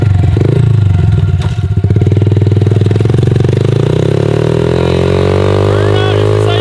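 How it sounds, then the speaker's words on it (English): Engine of a snowmobile-tracked quad bike with a broken valve stem revs hard while the tire spins loosely on the wheel during a burnout attempt, a loud steady rising drone with rattling clatter close by. "Broke my valve stem, so now the tire is just spinning on the wheel."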